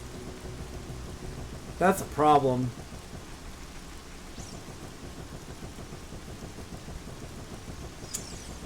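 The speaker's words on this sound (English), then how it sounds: "Not even the rain is filling up this lake." Steady rain falls over a lake in the video game Ocarina of Time, making a constant soft hiss throughout. A voice briefly speaks over it near the start.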